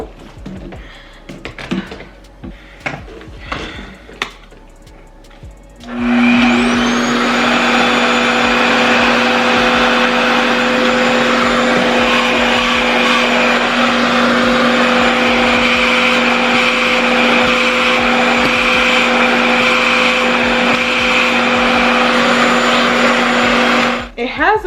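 A REVAIR reverse blow dryer switches on at dial setting 2 and runs as a loud, steady whine with a constant hum, continuing unbroken after a few seconds of quieter handling noise and talk.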